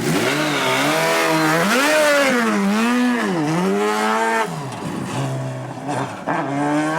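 A Piaggio Ape three-wheeler fitted with a Hayabusa motorcycle engine accelerates hard, its loud engine note climbing and dipping through several gear changes in a steady, close roar.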